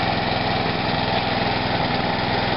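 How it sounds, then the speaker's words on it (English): An old Briggs & Stratton small engine runs steadily at close range, a loud, even, buzzing drone with no talk over it. "Running pretty well now."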